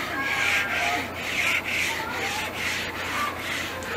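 Rough 40-grit sandpaper rubbing across a mahogany table top in steady back-and-forth strokes, each pass a close scratchy swish repeating about once a second.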